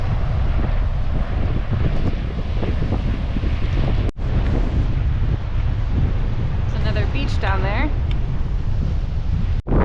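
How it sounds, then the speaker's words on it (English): Strong coastal wind buffets the microphone in a steady low roar throughout, with surf beneath and a person speaking briefly over it. "I think the wind is getting a little too intense."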